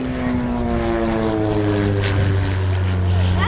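An SA180 Twister light aircraft with an 80-horsepower propeller engine at an airshow, heard as a loud, steady droning buzz with a shifting pitch as it passes, continuous for the whole stretch.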